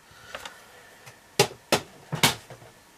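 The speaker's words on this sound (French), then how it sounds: "Je vais couper au ciseau" Scissors cut a paper greeting card for the New Year. There are several crisp, separate snips, with two or three louder cuts close together and a few faint ones around them.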